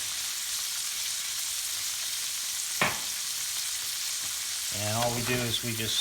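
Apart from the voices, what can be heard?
green beans sautéing in a metal pan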